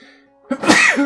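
A single sharp, explosive sneeze bursts out after a brief quiet lead-in, loud and close, trailing off into a short breathy tail.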